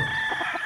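Chickens from a hen's breeding bloodline give a quick burst of clucking with a fragment of a rooster's crow, close and fairly steady for under a second.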